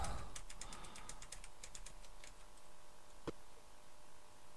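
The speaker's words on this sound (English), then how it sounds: "Oh my goodness, I'm tapping the keys and I'm hitting it." A computer keyboard's keys are tapped in a quick irregular burst of light clicks, followed by a single sharper knock, all faint and close.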